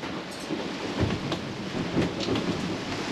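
Steady rain pours throughout on a sailing yacht at Manihiki, Cook Islands, with low rumbles of thunder swelling around the middle and later; a constant, dense storm wash with no voices.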